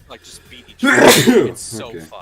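A single loud, sharp sneeze bursts out between stretches of casual conversation, close to the listener.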